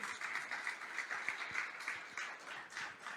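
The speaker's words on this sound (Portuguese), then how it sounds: "Você pode aplaudir o Senhor Jesus?" A church congregation claps for Jesus during a sermon, a steady wash of many hands heard faint and distant for a few seconds with no voices on top.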